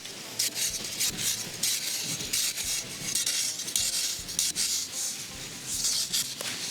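Butterfly lizards being stir-fried in a pan: metal utensil scraping and clinking against the pan in irregular strokes over a steady sizzle, close and heard alone.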